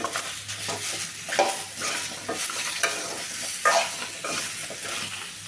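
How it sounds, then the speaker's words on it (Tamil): Ridge gourd sautéing in an oil pan, a low steady sizzle with repeated ladle scrapes and stirs against the vessel every second or so, close and moderately loud, without any voices. "பீக்கங்காய் வச்சுக்கலாம் கொஞ்சம் வதக்கிக்கலாம்"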